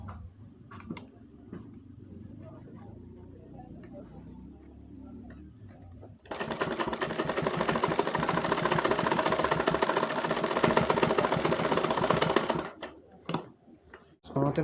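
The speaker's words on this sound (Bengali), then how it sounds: "তারপর আমরা ভিতরে সেলাই করে নেব আমাদের" A sewing machine stitches the inside of a coat's wallet pocket, running loud and steady for about six seconds after a quieter stretch of room noise and low talk, then stopping abruptly.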